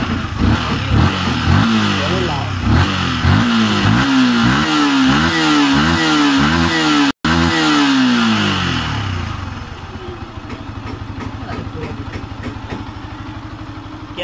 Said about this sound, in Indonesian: Ini tak gas pelan-pelan.